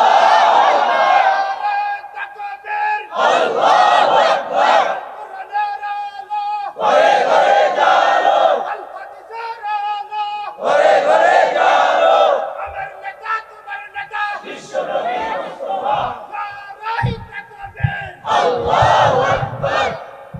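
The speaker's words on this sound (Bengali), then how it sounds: "হাত তোলেন সকলে, জোরে সোরে তাকবীর হবে।" A large crowd at an open-air religious gathering in Bangladesh chants takbir together, voices swelling in loud repeated bursts of collective shouting that come in waves with brief gaps between them.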